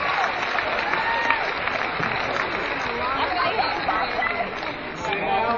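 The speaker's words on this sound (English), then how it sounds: "So give yourself a round of applause." Audience at a school veteran assembly applauding, a steady wash of clapping mixed with crowd chatter and children's voices throughout.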